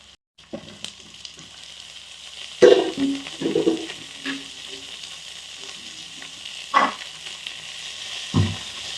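Tomato and green chillies hit a pan of frying onions for kake soppu palya, giving a steady oil sizzle with several louder bursts and scraping stirs, close and alone with no talk.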